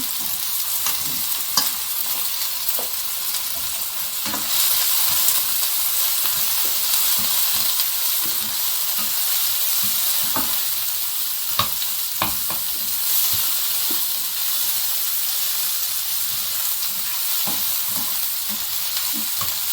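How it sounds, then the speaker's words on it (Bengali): Butter sizzling and frying in hot oil in a pan before asparagus is added, a steady loud hiss and crackle with occasional sharp pops and stirring scrapes throughout, no voices. "তেলের সাথে একটু বাটার দিব, বাটার দিয়ে দিলাম"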